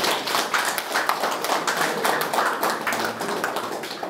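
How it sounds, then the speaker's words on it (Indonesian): An audience applauds Pak Amin, a steady dense clapping of many hands that continues evenly and fairly loud throughout. "Tepuk tangan untuk Pak Amin"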